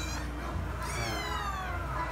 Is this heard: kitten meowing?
yes